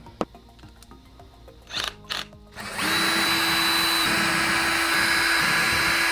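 A power screwdriver backs screws out of a hard drive: a few light clicks and handling knocks, then a loud, steady motor whine that starts partway through and runs unbroken to the end, up close.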